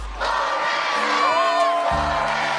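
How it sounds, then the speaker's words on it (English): A played recording of a crowd cheering and whooping, with shouting voices rising and falling across the whole stretch. It sounds loud and continuous, with a low hum entering near the end. "It's just people cheering"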